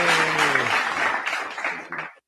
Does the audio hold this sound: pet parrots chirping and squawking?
no